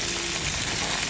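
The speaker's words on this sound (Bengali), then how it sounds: "মাছগুলো দিয়ে দিলাম" Fish frying in a pan makes a brief, steady hiss of hot oil up close, with no voices.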